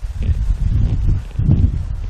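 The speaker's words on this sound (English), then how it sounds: "It's mighty windy today." Strong wind buffets the microphone outdoors on a 55-degree day, a low rumbling roar that surges and eases in gusts, close and loud.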